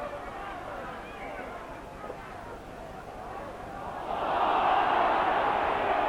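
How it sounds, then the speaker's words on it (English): Rugby crowd at a 1989 Llanelli versus All Blacks match swells into a loud, sustained roar of displeasure after a referee's call, rising over a steady distant stadium murmur. "Crowd not altogether pleased with Ken McCarthy's decision"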